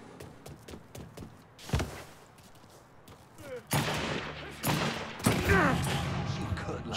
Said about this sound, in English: Oh, he's got a rifle, that's why.